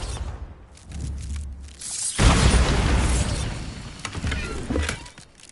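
A Bombarda spell in a Harry Potter video game sets off a loud, broad explosive burst with a lingering rumbling, crackling tail, preceded by quieter low mechanical rumbling.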